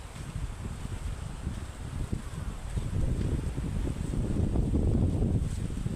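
Strong wind roars and buffets steadily through a room in Lalod, growing louder partway through, with a low rushing rumble and no talking.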